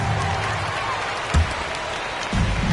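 A home crowd roars and applauds steadily in the basketball video game NBA 2K26 during a Warriors versus Spurs game, a dense, sustained cheer with a few thumps and brief swells.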